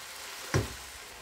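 A single brief scrape and sizzle as peeled, squeezed tomatoes and dried mint are stirred together in a hot pan, close and short against a steady frying hiss.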